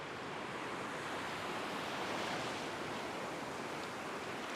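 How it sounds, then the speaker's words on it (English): Small ocean waves break on a beach beside reef rocks, a continuous close wash of surf and foam with some wind rumble on the microphone, heard alone without voices. "the waves aren't big, but certainly enough to get me wet"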